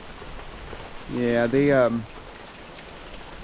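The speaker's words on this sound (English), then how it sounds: "they are getting pounded with rain" Heavy rain pounds on a yard where free-range birds roam, a steady broadband hiss throughout, briefly overlaid by a short spoken remark.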